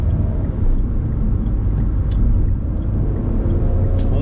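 A 2017 Dacia Sandero Stepway with a 0.9 TCe 90 turbocharged engine and manual gearbox gives a steady, loud, close engine drone, full and rumbling, with no talking.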